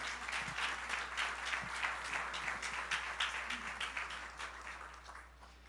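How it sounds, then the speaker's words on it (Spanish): A church congregation breaks into applause, a dense wash of many hands clapping together that stays steady and full for several seconds before slowly thinning out. "Un aplauso para estos colaboradores."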